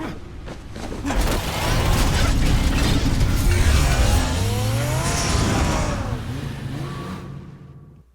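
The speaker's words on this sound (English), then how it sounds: "That's a cool car." A car engine in the Batman Telltale video game, heard as a steady motor drone with tire squeal and skidding layered in, loud and close, holding for several seconds before fading out at the end.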